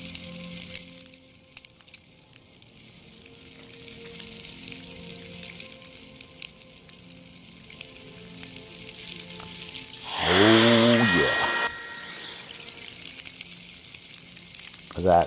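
Shrimp with an orange honey glaze on a Blackstone griddle gives off a low, steady sizzle, which rises into a louder hiss after a short clatter when the pieces are flipped, then settles back to a quiet fry.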